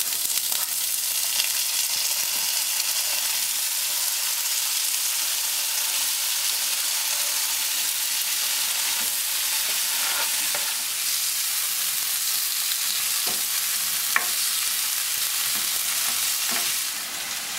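Olives and tomatoes sizzle and crackle in a hot pan for pasta puttanesca, a steady bright frying hiss with occasional stirring scrapes and clicks, no voices.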